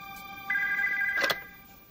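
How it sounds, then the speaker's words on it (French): A telephone rings with a sustained electronic bell tone that starts partway in, holds for under a second and cuts off after a short burst, loud and close in a quiet room. "Nous nous mettions au lit quand le téléphone a sonné."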